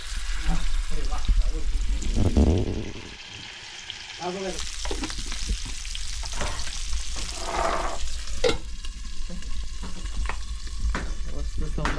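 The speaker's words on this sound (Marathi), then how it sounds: "सौंदर्य आता फ्राय होतोय" Saundala fish fries in a pan on a village wood-fired stove, a steady close sizzle with stirring and scraping, while people talk over the cooking.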